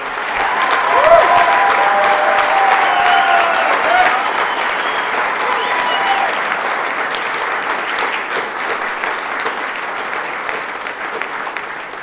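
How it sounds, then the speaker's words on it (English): A room of people applauding Marine Corps ammunition award recipients at a 2022 ceremony, a loud sustained round of clapping that slowly thins toward the end. "Please join me in a round of applause."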